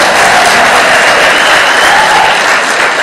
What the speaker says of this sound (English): Clap like you are happy for them.